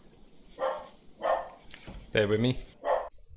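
In a horror PC game, a dog barks in short repeated bursts at mid distance, with someone speaking briefly between and over the barks.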